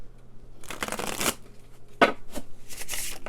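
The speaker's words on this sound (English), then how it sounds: "Absolutely just a joy to shuffle this deck" A tarot card deck being shuffled close up, with two long riffling bursts of rapid card flutter separated by a sharp tap and softer riffles, no voices.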